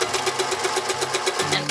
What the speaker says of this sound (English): Let me get my sewing machine where you can see it just a little bit better.